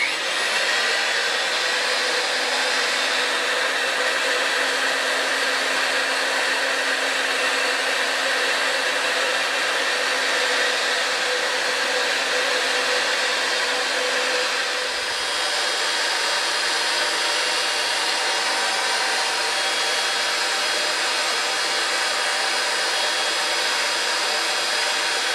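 A RIDGID pipe threading machine runs with a steady, loud, close whine and hum that holds almost unchanged throughout, with a brief dip partway through.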